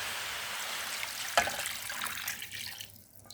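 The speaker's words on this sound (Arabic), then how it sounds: "هسه راح نضيف عليهم الماء" Water poured into a cooking pot over onions, chicken, dried lime, bay leaves and spices, a steady splashing rush with a brief louder splash partway, then thinning to a trickle.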